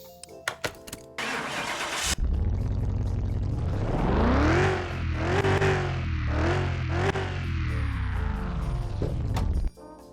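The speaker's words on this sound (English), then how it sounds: "Just a regular old V8, sounds amazing though" A regular V8 car engine in Car Mechanic Simulator 2021 fires up after a few clicks, then revs hard several times in quick succession before cutting off abruptly, loud and close.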